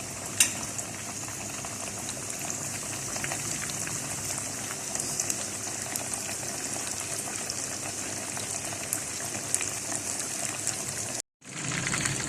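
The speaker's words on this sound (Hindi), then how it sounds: "तो बस फ्राई करते जाएं।" Boneless chicken pieces deep frying in hot oil, a dense, steady bubbling sizzle that runs loud and unbroken throughout, close by, with a brief cut near the end.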